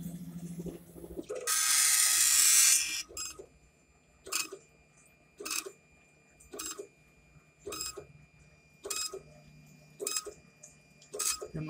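A K40 laser cutter stuttering from buffer underruns, starting with a burst of loud hissing air, then a run of evenly spaced short clicking, rattling bursts about once a second at close range.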